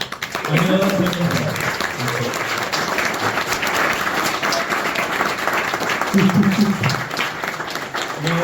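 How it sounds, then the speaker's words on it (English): An audience applauds a speaker at a talk on law, with dense, steady clapping throughout and voices briefly heard over it at the start and near the end. "Round of applause for Stephen."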